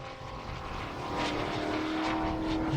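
Model aircraft with propeller engines fly past at an outdoor air show, a steady droning buzz growing slightly louder as they approach, with faint crowd noise behind.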